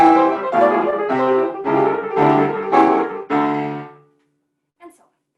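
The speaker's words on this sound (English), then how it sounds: "and Mendelssohn's sounds like this" Piano playing Mendelssohn's Rondo Capriccioso in a quick passage of downward arpeggios, about six loud bursts of notes in quick succession before ringing out into silence, with a faint short sound near the end.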